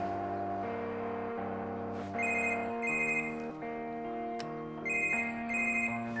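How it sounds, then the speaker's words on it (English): A mobile phone ringtone plays alone, a repeating electronic melody in bright synthetic tones that cycles through phrases at a moderate, fairly quiet level. "Justin, my phone."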